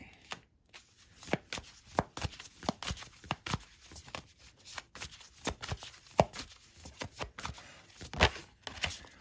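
Tarot cards are reshuffled by hand in quick, irregular riffling bursts and soft slaps, close to the microphone in a quiet room.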